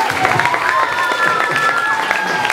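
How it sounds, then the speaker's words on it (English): An audience at a school performance giving a round of applause, loud scattered clapping with crowd murmur and a voice speaking over it throughout. "Let's give Noelle a round of applause."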